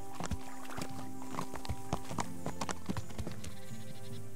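Horse hooves while riding in Kingdom Come: Deliverance, an irregular clip-clop of thuds and knocks at a trotting pace, close and clear over a steady tonal ambient drone.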